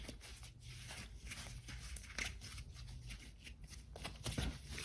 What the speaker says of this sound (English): I'm going to fold it in, fold it in, fold it in